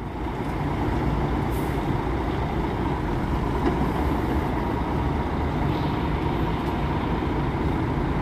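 LD da Penha coach pulling away from the Porto Alegre bus station, a loud, steady diesel rumble with a hint of air-brake hiss, continuous and close throughout.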